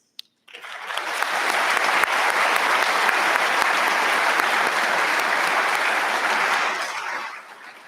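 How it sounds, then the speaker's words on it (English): Audience applause for graduating candidates at a West Point Summer Leaders Experience graduation ceremony, a dense, steady wash of clapping that swells in after a brief pause, holds evenly for several seconds, then tapers off. "We applaud them for their hard work and encourage them in their pursuit of excellence"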